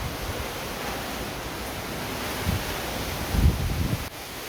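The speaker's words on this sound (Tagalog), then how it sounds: "Grabing hangin" Strong roaring typhoon wind gusts with broad rushing noise and buffeting against the microphone, swelling louder briefly before easing, no talking.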